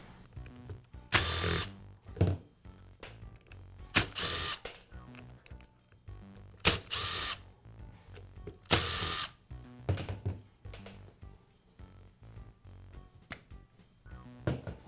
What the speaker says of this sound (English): I'll begin by removing the grinder's spindle assembly.